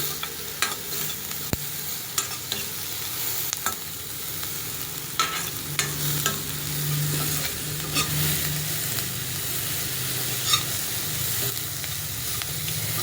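Onions sautéing in a pan for a cheese carrot sandwich, with a steady soft sizzle and crackle and occasional stirring clicks, close and continuous with no talking.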